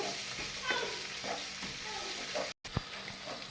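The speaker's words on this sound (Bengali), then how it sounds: "এবার রসুন থেতো করা, আদা থেতো করা দিয়ে ভালো করে একটু বেশ নাড়াচাড়া করে নেব।" Crushed garlic, ginger and green chilli stir-fry in hot oil, a moderate sizzle with soft scraping stirs and a brief gap near the end.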